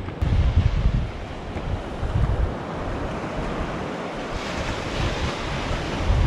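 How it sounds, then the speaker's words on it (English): Calm ocean waves wash steadily onto a beach at sunrise during surf fishing, a continuous broad rushing hiss with gentle swells and some wind noise on the microphone. "Ocean looks pretty calm."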